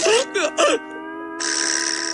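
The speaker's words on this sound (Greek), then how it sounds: "Ο καλαμάρης έχει Λόξιγκα!" Squidward, the cartoon squid from SpongeBob SquarePants, hiccups in loud, voiced, squeaky bursts: three quick hiccups, then a drawn-out tonal squeal and a bright, sustained tone.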